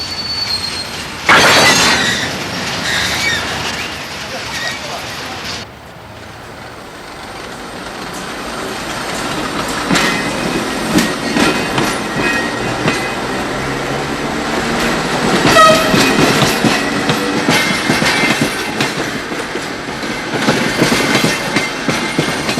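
Railway wagons shunt at Gare de Lyon in 1977, with brake shoes used to hold the cars apart. Loud metallic clanks and long wheel squeals build into steady rolling clatter, and a horn sounds.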